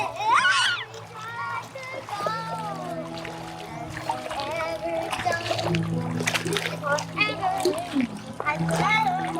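Water splashes and sloshes as a child named Benben bathes outdoors in the countryside, lively continuous splashing mixed with a voice and adult talk throughout.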